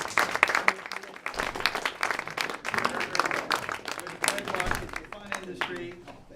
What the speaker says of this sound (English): How about a little round of applause for our panel guys?